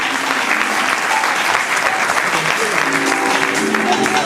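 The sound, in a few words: audience applause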